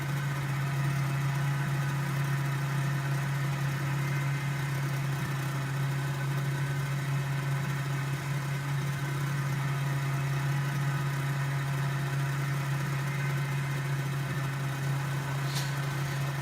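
Mozzie Mk III helicopter engine in Microsoft Flight Simulator, a steady unbroken drone with a strong low hum, even and continuous throughout at a constant level, with no voices.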